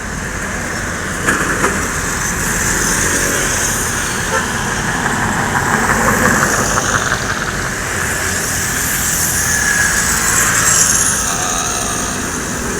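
A PT Rapi medium tour bus running empty passes along a road, a broad engine and road roar that swells and eases over several seconds, with traffic noise around it.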